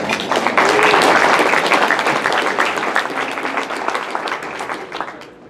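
A Rotary Club meeting audience gives a dense, steady round of applause for a half marathon runner, loud and sustained from start to finish before tapering off at the very end.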